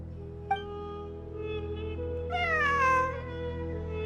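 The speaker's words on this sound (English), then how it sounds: "A cat? I think there was one earlier, too." A cat meows in the video game Genshin Impact, one short call followed by a longer, drawn-out falling meow, heard alone over a steady low ambient game hum.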